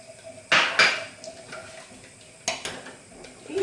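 A spoon clinks and scrapes against a pot while gelatin and sugar are stirred together over low heat for panna cotta, with a few sharp metallic knocks standing out over a quiet background and no talking.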